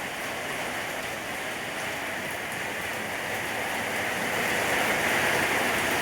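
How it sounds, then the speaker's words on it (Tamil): Steady, loud rain pours down outside a home in a continuous broadband hiss that swells slightly toward the end, with no voices. "மழை வருதுப்பா, மழை வருது"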